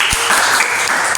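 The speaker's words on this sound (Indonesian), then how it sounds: "tepuk tangan dong" Brief burst of clapping from a small group in an Indonesian podcast studio, steady and dense for just over a second, with a faint voice underneath.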